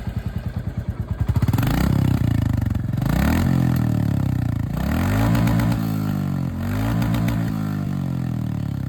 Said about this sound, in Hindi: बुलेट 350 की भी यहाँ पर जो मतलब एग्जॉस्ट साउंड है वो आप लोगों ने सुन लिया है